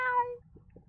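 A small cat lets out a single clear, high meow close by, which fades quickly into quiet background noise.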